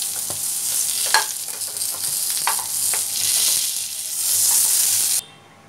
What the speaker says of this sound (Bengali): পটলটা ভাজা হয়ে যাচ্ছে।